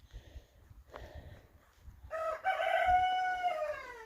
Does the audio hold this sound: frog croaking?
no